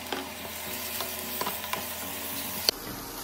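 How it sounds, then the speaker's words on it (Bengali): Ground turmeric, chilli powder and cumin-coriander powder stirred as they fry in a pan for katla fish kalia, a soft steady sizzle with a few light spoon scrapes and a sharp clink near the end, no talking. "দিয়ে আরেকটু কিছুক্ষণ নাড়িয়ে নেব ভালো করে।"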